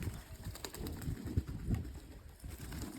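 Pigeons coo in low, soft murmurs at a loft where birds are kept, including a lame one and a few chicks, with faint scattered knocks and rustles around them.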